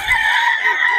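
Two chickens offered for sale, one crowing loudly and close in a single short, strained call.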